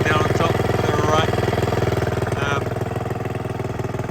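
Honda 2hp four-stroke outboard engine running steadily at idle, a loud, close, even rapid putter that holds a constant rhythm throughout with no talking.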